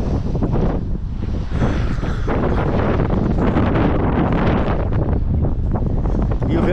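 Strong southwest wind blowing in from the sea at Arraial do Cabo during a cyclone-like storm, roaring loudly and continuously across the microphone with crashing surf underneath and a voice speaking faintly within it.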